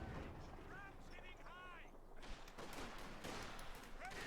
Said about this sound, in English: enjoying a massive lead over VonIvan here, just being held down by the MG34